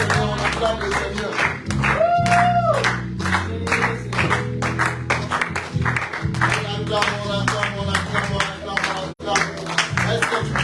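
During a Sunday prayer service, a church congregation acclaims the Lord with loud sustained clapping and shouting voices over a rhythmic music beat, the dense crowd noise filling the room throughout.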